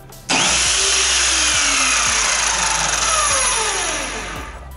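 An Evolution R210CMS mitre saw, set up for cutting laminated wood, spins up with a sudden loud whine and then runs at a steady high pitch, easing slightly as it coasts near the end.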